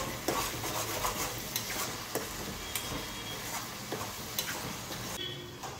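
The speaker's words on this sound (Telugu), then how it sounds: "ఆ బెల్లం కొంచెం యాడ్ చేస్తున్నాను టేస్ట్ కోసం. సో ఇవన్నీ మిక్స్ చేసుకోవాలి." Grated jaggery being stirred into brinjal vangibath in a pan, with a steady soft scraping and stirring that carries faint ticks and spoon knocks against the pan, alone and close.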